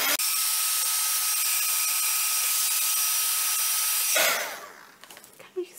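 A heat tool blows steadily close by, drying a pastel Spectrum Noir Aquatints craft background with a continuous loud whirring hiss, then cuts off, leaving faint handling sounds.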